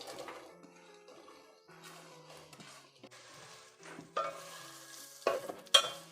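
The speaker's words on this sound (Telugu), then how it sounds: "ఇప్పుడు ఈ ఉల్లిపాయలను మనం వేయించుకోవాలి బాగా." Chopped onions fry in hot oil for a homemade Andhra curry leaf chicken curry: a soft, quiet sizzle with intermittent stirring scrapes that grow louder toward the end.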